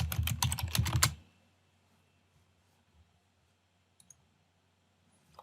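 A computer keyboard clatters in a quick close burst of typing for about a second as a material name is entered in 3ds Max, then near silence follows with a couple of faint isolated clicks.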